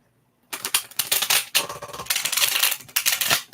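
A deck of tarot cards is shuffled by hand in quick riffling bursts, with crisp papery flutters and short pauses between them, close and fairly loud, and no voices.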